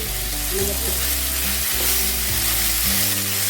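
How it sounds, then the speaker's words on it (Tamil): Tomatoes sauté in a pan for hotel-style parotta salna, a loud continuous close sizzle with a low steady hum from the stove or a fan running underneath. "இப்போ இதையும் சேர்த்து வதக்கிக்கலாம். இந்த தக்காளி கொஞ்சம் நல்லா வதங்கட்டும்."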